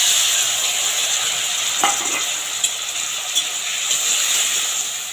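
Tomato dropped into hot oil for a fish curry, sizzling with a steady bright hiss while a spatula scrapes and stirs a few times, close and without talk.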